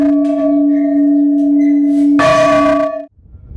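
A single large church bell, cast from a copper-zinc alloy, rings out with a sustained, humming tone, then a second strike adds a brighter clang before the sound cuts off.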